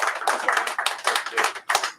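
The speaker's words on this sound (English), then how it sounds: "Give me a round of applause." Hands clap in uneven bursts and pauses at a lecture gathering in Baltimore, fairly close and lively, like a smaller group applauding in rhythmic waves rather than a continuous roar.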